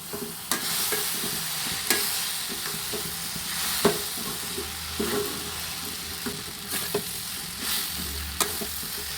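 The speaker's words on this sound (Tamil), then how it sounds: "இது எல்லாத்தையுமே மசாலாவோட ஒன்று சேர்கிற மாதிரி பரட்டி விட்டுக்குவோம்." Chapati noodles are stir-fried with masala in a kadai: a steady sizzle runs throughout, broken by sharp spatula scrapes and taps against the pan at irregular intervals, close and fairly quiet.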